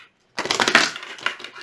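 A quick riffle shuffle of tarot cards, a short burst of papery flutter and slapping close up, after a brief silence.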